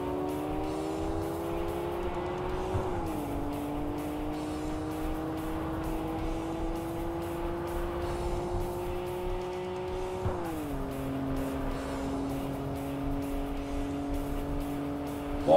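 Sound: racing car driving in video game Tokyo Xtreme Racer 3

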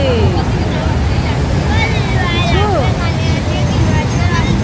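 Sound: rough sea waves crashing at Digha beach

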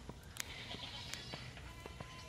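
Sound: goats bleating

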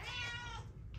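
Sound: cats meowing

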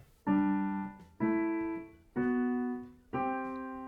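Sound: musical interval of a perfect fifth

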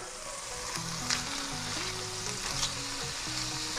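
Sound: grouper fillets frying in a pan

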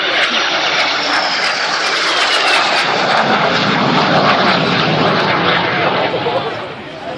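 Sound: de Havilland Vampire jet's Goblin engine whistling in flyby

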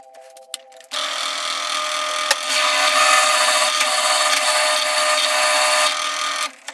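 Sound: power tool drilling a hole in metal

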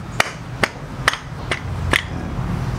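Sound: hammering the centre of a Honda Click 150i CVT clutch

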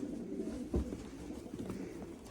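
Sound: pigeons cooing, game pigeons for sale

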